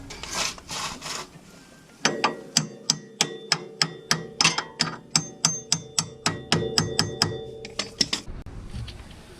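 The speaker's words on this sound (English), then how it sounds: "I'm just going to tap it through with a hammer." Steady metallic hammer taps drive the axle through on a 1988-1991 fourth-generation Honda Civic, about twenty sharp ringing strikes in a regular rhythm after a stretch of scraping, close and loud in a garage.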